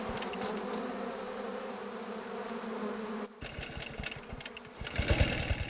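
A swarm of killer bees buzzes loudly and continuously, then cuts out briefly before returning as a rougher, more agitated drone with scattered close thumps and rising intensity.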